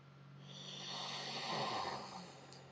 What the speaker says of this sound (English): Basically, we're breathing in and out of the back of the throat.